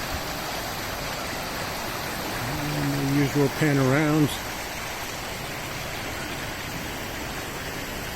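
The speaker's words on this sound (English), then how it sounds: "And there's our creek." Steady rushing water of a flowing creek fills the clip, with someone speaking briefly over it midway.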